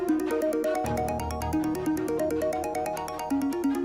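A mobile phone ringtone plays a bright, repeating electronic melody, with steady pulsed notes ringing clearly and continuously on its own.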